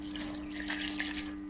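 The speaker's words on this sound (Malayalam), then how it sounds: "വെച്ചേക്കുന്ന വെള്ളം തന്നെ ഒഴിക്കും." Water poured from a container into a mixer grinder jar holding leftover cooked rice, a short steady splashing trickle heard close up.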